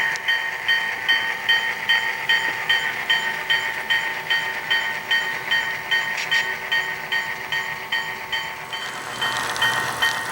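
A train rolls steadily along the rails at Steamtown as locomotive 514 shuffles a Lackawanna caboose, with a rhythmic clatter and a bright metallic ring, continuous and fairly close throughout.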